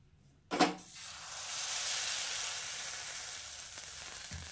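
Rice flour batter for chitoi pitha hits a hot wok with a sudden loud spatter, then settles into a steady, close hiss of frying that carries on to the end with no voices.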